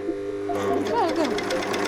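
A sewing machine stitches denim fabric in a denim production workshop, its steady, close mechanical whir running continuously through the clip beneath people talking nearby.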